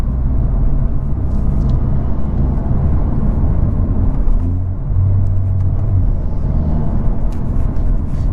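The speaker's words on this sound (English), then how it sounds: "You get the turbo. Sounds so good." Close, loud, steady low rumble of a Hyundai Veloster N turbo engine with DCT while driving, with a continuous drone and faint higher turbo hiss above it.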